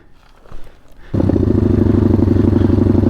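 A WPB 190 motorbike fitted with a NIBBI carburetor starts up after about a second of quiet rustling and settles into a loud, steady, close idle that holds to the end.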